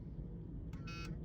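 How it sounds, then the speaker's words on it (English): A Ford ignition switch bypass push-start unit on a 1980s to early 1990s Ford gives one short electronic beep, slightly broken in two, heard faintly over a steady low background rumble. "it'll beep to let you know that it's good and ready to go."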